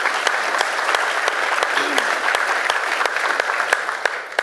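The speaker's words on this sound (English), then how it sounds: "let's please give a round of applause for John." An audience claps steadily for a speaker at a college football event, a dense, even round of applause with a few sharper individual claps standing out above it throughout.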